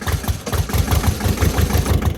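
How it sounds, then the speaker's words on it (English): An old Massey Ferguson 210-4 tractor engine chugs close and loud, a fast, even rhythmic knocking of a small diesel just after starting, running on its own. "This is old Massey Ferguson 210-4."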